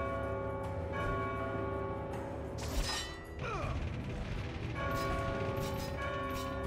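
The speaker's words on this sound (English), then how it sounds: "Try ringing the right bell first." A bell rings in the God of War 2 video game amid clanking, creaking mechanisms, with metallic strikes and ringing tones over a dense, busy game soundscape.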